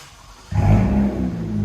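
A 2020 Toyota Camry TRD with a 3.5L V6 and straight-piped dual exhaust idles low, then jumps into a sudden, close, throaty rev that holds and rumbles on.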